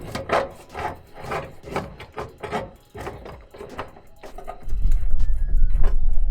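Plastic fuel line scraping and rubbing as it is fished up through a hole beside the gas tank of a 2014 Hyundai Veloster Turbo, in close, uneven bursts, followed by a steadier low rumble in the last two seconds.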